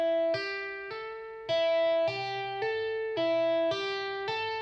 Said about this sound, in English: The reason I call it forward tapping is because we're going from a low note up to a higher note.